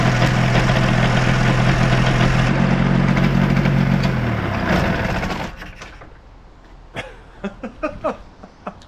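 A small airplane engine idles loud and steady with a strong low hum, then fades and cuts out midway, leaving quieter scattered knocks and clicks.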